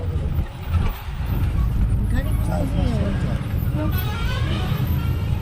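A bus drives along a mountain road toward Gangtok, its steady engine and road rumble filling the clip from inside the vehicle, with people talking over it throughout.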